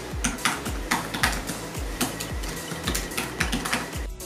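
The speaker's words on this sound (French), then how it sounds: "Voici une séquence qu'on a enregistrée en écrivant avec le clavier." Typing on a Dell XPS 13 laptop keyboard: a steady run of close, crisp key clicks with low thumps, tapping in an irregular but continuous rhythm, with no talking.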